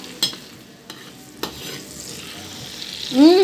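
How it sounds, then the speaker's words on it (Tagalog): Garlic frying in a pan, a soft sizzle punctuated by a few sharp spatula knocks and stirring scrapes, ending in a brief rising squeal. "Lagay tayo ng bawang."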